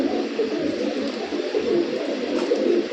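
A loft of pigeons coos in a continuous overlapping murmur, many birds close together producing soft, throaty rolling calls with no break.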